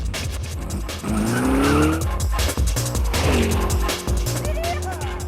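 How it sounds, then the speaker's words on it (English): A car speeds off with loud tire squeals and skidding over a revving engine, the screech rising and falling across several seconds up close, with voices shouting underneath. "As she got into the car, Tony put the pedal to the metal."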